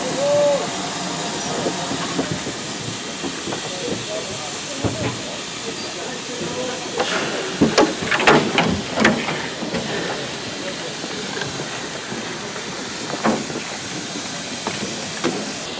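A heritage train stands at Leicester North station on the Great Central Railway, with steady steam hiss and scattered clanks and knocks under a broad background wash.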